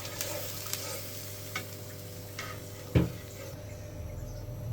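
Ginger and garlic fry with a soft, steady sizzle in a pan, broken by a few light stirring scrapes and one louder clack of a utensil against the pan.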